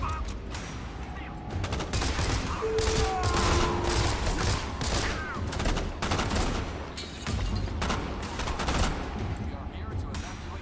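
Video game demo gunfire: sustained bursts of rapid automatic shots rattling almost continuously, with brief pauses and some synthetic whistling tones over a dense rumbling bed.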